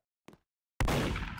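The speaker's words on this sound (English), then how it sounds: "Then I heard a gunshot." A short faint click, then after a brief silence a sudden loud, sustained burst of gunfire in the Roblox game Murder Mystery 2 fills the rest of the moment.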